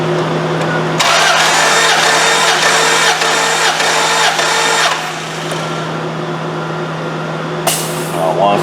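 A Dodge 4.7 V8 undergoing a compression test cranks over on the starter for about four seconds with a rhythmic, pulsing churn, then stops, with a steady background hum and a voice speaking around it.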